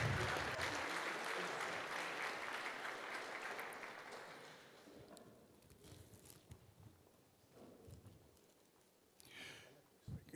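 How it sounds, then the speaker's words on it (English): A church congregation at a Baptist Union of Southern Africa service claps in a round of applause, loud and dense at first, then thinning and fading into a quieter room with scattered sounds. "Give a round of applause."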